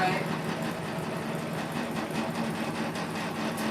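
A sewing machine stitching a machine-embroidery hoop design runs as a steady, loud mechanical whir and rapid clatter throughout, with a voice in the background.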